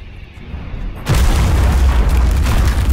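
A structure crashing down in Subnautica Below Zero: a quiet rumbling lead-in, then a sudden deep boom that swells into a loud, sustained roar of crashing debris.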